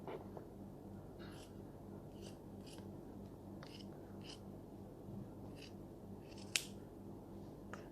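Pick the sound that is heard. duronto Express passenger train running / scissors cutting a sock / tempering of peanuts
scissors cutting a sock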